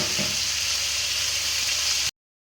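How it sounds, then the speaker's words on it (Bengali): Fish frying in a pan of hot oil for a Bengali home-cooked dish, giving a steady, close, continuous sizzle with no voices before it cuts off abruptly. "এবার এগুলো ভাজা হবে সব।"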